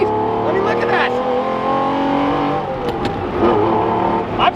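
An older V12 supercar with about 50,000 miles pulls through the gears, its engine note loud and droning from inside the cabin, rising with brief shift breaks, while someone talks over it.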